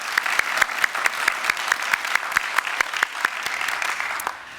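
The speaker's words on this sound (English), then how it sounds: "Yeah, we can clap for that." An audience at a university presidential investiture ceremony claps for several seconds, a dense, loud, close wash of many hands with a fairly regular rhythm that fades out at the end.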